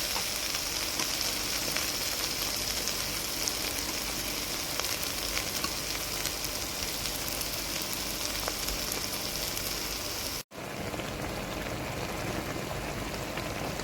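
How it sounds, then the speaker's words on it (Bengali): Soya chunks fry in a pan with a loud, continuous sizzle that roars steadily close up, then cuts briefly before the hissing resumes as water goes in. "একটা জল দিয়ে দেবো"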